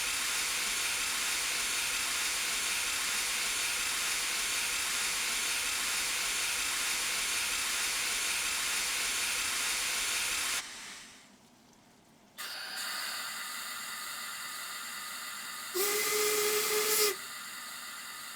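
Steam locomotive in a railway simulation game hissing a loud, steady jet of steam for about ten seconds, then cutting off, followed by a softer hiss and a brief louder burst with a tonal whistle-like edge.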